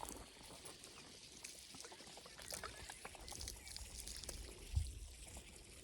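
Water trickles and pours steadily into a drum on a rural farm, a faint continuous splashing close by with one brief thump near the end. No one speaks.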